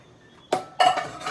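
Metal pan knocked and set down in a home kitchen while preparing Colombian cheese fingers, two sharp clattering clanks close by, with no talk.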